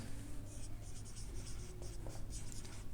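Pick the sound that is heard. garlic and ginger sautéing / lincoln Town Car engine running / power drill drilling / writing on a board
writing on a board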